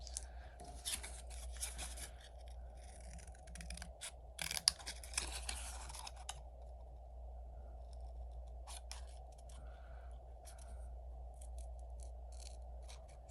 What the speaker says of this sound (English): I don't like taking them sharp corners with these scissors